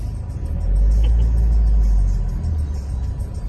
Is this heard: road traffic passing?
yes